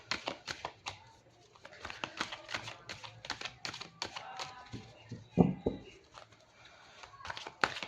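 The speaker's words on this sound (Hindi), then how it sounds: "जब तक कि मैं आपके लिए कार्ड शफल कर रही हूँ गाइस" Tarot cards are shuffled by hand in a series of quick, light riffling taps and flutters, close and fairly soft, with a voice speaking intermittently over them.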